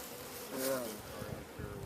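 Honey bees buzz in a low, steady drone as they are loaded into an MCG hive, faint and close, the hum swelling briefly and then settling.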